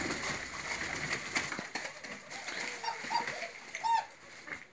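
A young collared dove coos in a village setting, a few soft low calls near the end against a faint background hiss.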